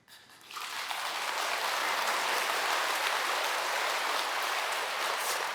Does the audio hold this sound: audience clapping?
yes